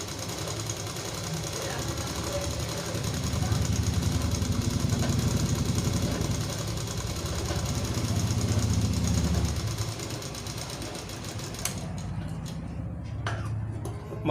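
A tailoring sewing machine stitches a straight seam in a fast, even mechanical chatter that runs loudly for several seconds before slowing and stopping, with a voice faintly present.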